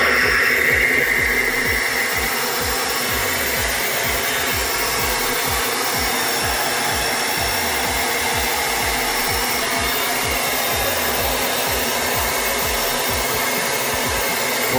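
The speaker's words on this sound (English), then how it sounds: "you take a blow dryer. You dry it up a little bit" A hair dryer fitted with a guard runs steadily on styled, gelled hair for a dance competition, a loud, constant close-up whoosh with no talking.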